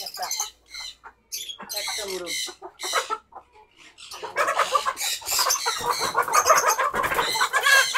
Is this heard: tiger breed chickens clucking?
yes